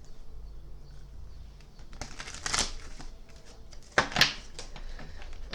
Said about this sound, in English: So we're just going to give a little shuffle.